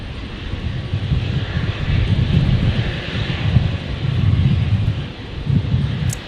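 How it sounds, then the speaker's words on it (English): A China Southern Airbus A350 rolls and rotates on runway 19 right at Brisbane, a deep rumbling jet roar that swells and rolls in waves, heard from a distance with light wind noise and no voices. "So the China Southern rotating on 19 right. The 350 heading back to Guangzhou."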